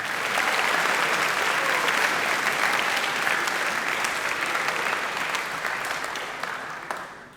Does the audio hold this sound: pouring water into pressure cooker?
no